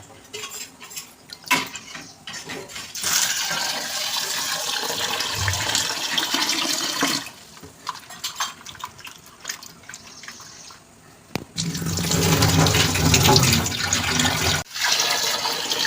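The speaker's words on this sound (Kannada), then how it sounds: "ಕ್ಲೀನ್ ಆಗಿರುವ ನೀರಲ್ಲಿ ತೊಳ್ಕೊಳ್ಳುವ" Raw adka plantain is washed in clean water: splashing and running water with handling clatter, in bursts separated by quieter gaps, strongest near the end.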